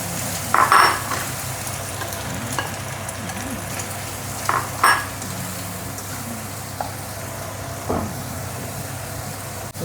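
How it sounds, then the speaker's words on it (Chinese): Beaten eggs and tomato sizzle steadily in a hot pan on the stove, a constant frying hiss broken by a few clinks and scrapes of the spatula stirring, close by with no talking. "这个不是煎，这个是炒"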